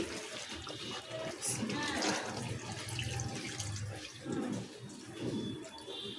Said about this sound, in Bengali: কষানো হয়ে গেছে। এখন দিব ঝোল।